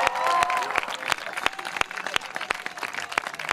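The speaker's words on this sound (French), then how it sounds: "On peut les applaudir bien fort." Audience applause for a team at a parish cup event in Braine-l'Alleud, Belgium; a softer, thinning round of clapping with a few sharp, distinct hand claps standing out at intervals, fading toward scattered individual claps.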